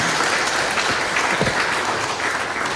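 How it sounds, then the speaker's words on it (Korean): Church congregation at a summer retreat gives loud, sustained applause for its educators, a dense continuous clatter of many hands filling the room for a few seconds. "우리 교육자들 한번 일어나서 인사할 때 크게 한번 박수해 주시길 바랍니다"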